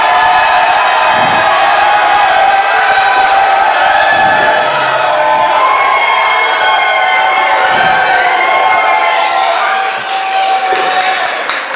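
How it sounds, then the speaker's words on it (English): Wrestling event crowd cheering wildly, a loud dense roar of shouts and whoops sustained throughout with occasional thuds and bangs mixed in. "Crowd going absolutely nuts."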